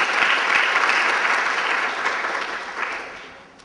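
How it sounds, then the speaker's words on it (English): A conference audience claps for event sponsors at a grants and fellowship gathering, sustained applause filling the room before tapering off toward the end. "Let's give them a round of applause for our sponsors."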